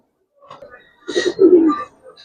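Giribaz and coloured pigeons at a sale give a short, close, throaty coo after a softer lead-in murmur, with people chatting nearby.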